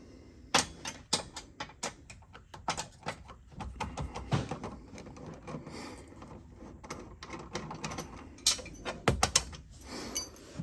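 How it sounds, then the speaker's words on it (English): Metallic clicks, clanks and ratcheting as bolts and nuts are taken off a gas golf cart during EFI troubleshooting, irregular, close handling noises with no speech. "I got the bolts and nuts out and put them in the cup holder"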